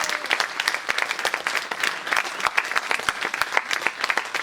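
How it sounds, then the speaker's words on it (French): An audience applauds at a live show in Martigues, dense sustained clapping from a sizable crowd, steady and fairly close with no one speaking over it. "On peut les applaudir très fort."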